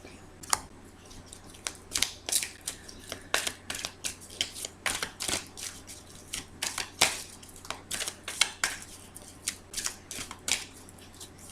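Tarot cards are drawn from a deck and laid down during a reading: a quick, irregular series of soft crisp flicks, slaps and taps, close and fairly quiet over low room hum, with no talking.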